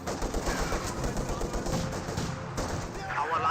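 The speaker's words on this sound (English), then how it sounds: "Conscripts do receive a bit of fire right there." Gunfire in the real-time strategy game Company of Heroes 2 striking a conscript squad, rapid machine-gun and rifle bursts crackling continuously at close range.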